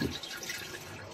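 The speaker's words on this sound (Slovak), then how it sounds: "Splachuje sa, hneď vedľa máte tlačítko na splachovanie" A camper van toilet flushes with water driven by its pump, a brief faint trickle and splash of running water.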